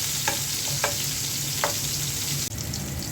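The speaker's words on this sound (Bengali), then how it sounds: "পেঁয়াজটা হালকা ভেজে নেব।" Onion fries lightly in a pan with a soft, continuous hiss over a low background hum, and a few faint utensil taps are scattered through it.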